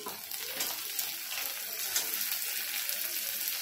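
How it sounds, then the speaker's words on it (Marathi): Chopped tomatoes hitting a pan of browned onions, setting off a steady, fairly quiet sizzle with crackling spatter and faint stirring, continuous and without talk. "कांदा लाल झालाय, आता आपण टोमॅटो टाकून घेऊया।"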